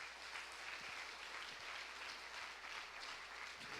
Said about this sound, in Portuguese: Quem pode dar uma salva de palmas para o Senhor?